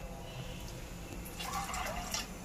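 Water poured into a pressure cooker holding peas makes a faint, splashing gurgle that swells midway, over a low background hum.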